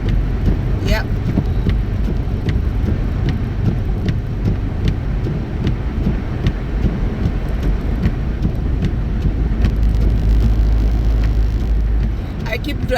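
A car driving slowly along a wet road in a snowstorm, with a steady low road and tyre rumble under a wash of spray and light ticking drops, close and continuous.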